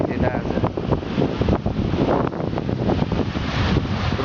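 Wind blows steadily at the seashore, a continuous broadband rush that buffets the microphone, with surf and water movement mixed into the gusts at close range.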